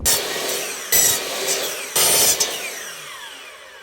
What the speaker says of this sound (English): Cut the wood with the miter saw, save some time.